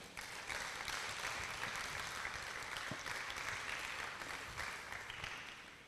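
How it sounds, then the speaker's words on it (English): Sustained applause from a conference audience in Edo, a broad, even roar of many hands clapping that holds steady throughout, heard from some distance with no voices over it. "I want a sounding round of applause for all of you"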